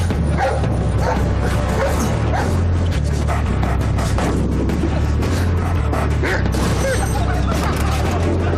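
A dog barks and yips in short bursts over a loud, steady low rumble of mechanical noise, with faint voices in the mix.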